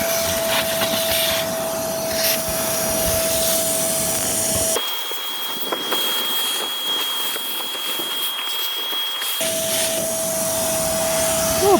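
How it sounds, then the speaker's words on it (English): A vacuum cleaner (hoover) clears moss from roof tiles and a gutter, a steady loud whine running throughout, with its pitch shifting twice as the nozzle meets different spots and the airflow changes. "use the hoover to get the moss off the roof"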